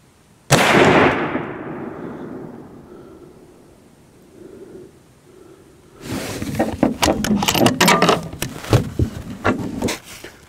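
A single loud .308 rifle shot cracks sharply and close, then rings out in a long decaying echo, followed by bursts of clattering handling noise.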